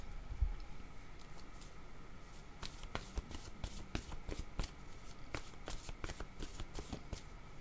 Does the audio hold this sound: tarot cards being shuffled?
yes